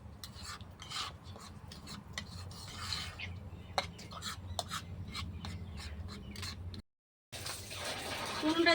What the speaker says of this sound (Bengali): মাখিয়ে নেবো ময়দাটাকে ভালো করে আমি মাখিয়ে নেবো